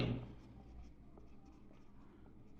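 Pen or pencil scratching on paper by hand, soft and continuous with faint strokes, close and quiet, no voice.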